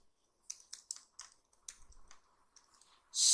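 Quick bursts of keystrokes on a computer keyboard, typed into a web browser, come in uneven clusters of clicks at close range, ending in a louder rush of noise.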